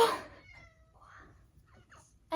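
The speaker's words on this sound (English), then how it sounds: "And hello from Other Cat." A cat meows in a short, fairly loud burst at the start, then soft faint mews and small rustles follow before another loud meow at the end.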